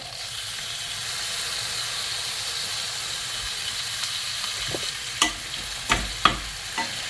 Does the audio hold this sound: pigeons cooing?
no